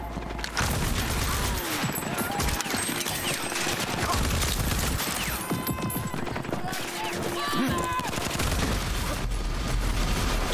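Rage 2 combat with grenade blasts and gunfire, dense layered shots and heavy booms running almost without pause, with occasional voices over the chaos.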